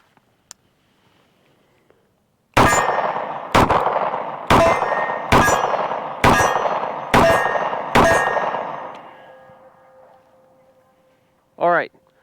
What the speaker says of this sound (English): Let's shoot it with 45 ACP.